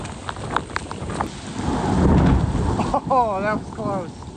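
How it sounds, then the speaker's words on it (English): A torrential downpour roars outside during a lightning storm, with dense, continuous hiss and a low rumble swelling near the middle. A voice speaks briefly near the end. "is absolutely a torrential downpour outside right now"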